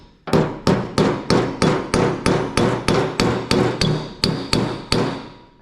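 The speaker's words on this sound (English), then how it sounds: "then hit it with my hammer" A hammer strikes a metal part of a Reed No. 103 vise during restoration, about fifteen sharp ringing blows at an even, steady pace, close and loud with no talk.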